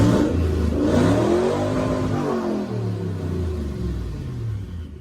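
A twin-turbo V8 in a Ford Focus project car revs loudly and steadily up close, its deep rumbling tone rising and falling through several swells with no talking over it.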